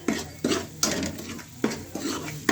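A spoon stirs masala for rajma in a cooking pot, scraping and clanking against the metal in regular strokes about every half second, close and loud with a light sizzle underneath.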